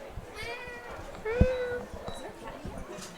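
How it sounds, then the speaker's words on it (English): A cat meows indoors with a few drawn-out cries, one louder call near the middle, heard faintly under people talking in a noisy room. "You hear that cat? There's like a cat in here or something."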